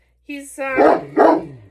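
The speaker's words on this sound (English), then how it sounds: "Sorry about the dog in the background." A guardian dog inside a house gives a short whine followed by two loud, close barks in a quick rising rhythm, with no other sound around them.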